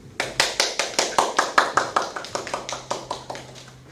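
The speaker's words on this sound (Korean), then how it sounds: "기념사를 해주신 국학원장님께 다시 한번 손박수 부탁드립니다" An audience applauds after a commemorative speech at a March 1st Independence Movement Day academic seminar, with steady, evenly spaced claps that ring out close by and fade slightly toward the end.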